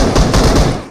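A rapid burst of automatic gunfire in the mobile battle-royale game BGMI, loud and close, with quick repeated shots running without a break for just under a second.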